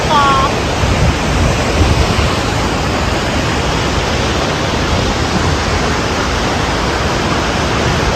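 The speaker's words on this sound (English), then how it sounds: "That's a nice waterfall." A waterfall in Butterfly Valley, a mountain gorge in Taiwan, sends out a loud, unbroken rushing roar close by, with a brief high call at the very start.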